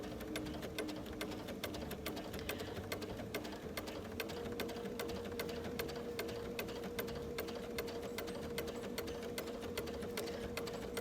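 A sewing machine stitches continuously with a walking foot while quilting a churn dash block, a fast even needle clatter over a steady motor hum, close and moderately quiet, with no talk.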